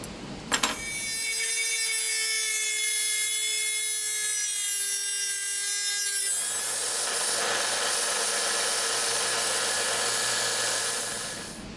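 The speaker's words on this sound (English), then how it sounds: "The hinges that I bought are a little larger than I need, so let's go ahead and get this cut off." A power tool cuts through metal hinges for a wooden cab alteration, starting with a brief clatter and then whining loud and steady, its pitch shifting to a harsher grinding partway through.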